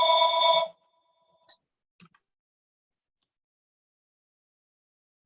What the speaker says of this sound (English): this is the third or fourth time there's been phone ringing